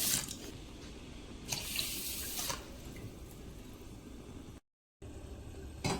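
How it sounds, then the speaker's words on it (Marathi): Tap water runs into a kitchen sink while rice is rinsed for prawn biryani, a steady soft splashing stream that swells in a few louder bursts and breaks for a moment of silence near the end. "हे तांदूळ मी स्वच्छ धुवून घेते. एक 3 ते 4 पाण्यामधून धुवून घ्यायचे."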